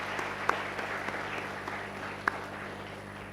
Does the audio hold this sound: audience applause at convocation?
yes